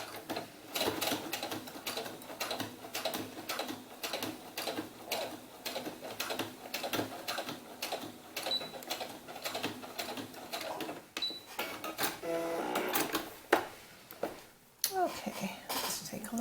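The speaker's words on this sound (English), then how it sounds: "now we've done the 2 rows of stitching" A sewing machine stitches rows on a doll's sunsuit with a fast, even mechanical chatter, running close and continuously for about fourteen seconds before slowing to a halt with a few clicks.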